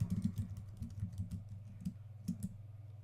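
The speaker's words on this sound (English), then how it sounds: "let's go ahead and type in the creator's name" Close, quiet keystrokes on a computer keyboard as a name is typed into a metadata field in Adobe Lightroom, in uneven bursts of clicks with brief pauses and no speech.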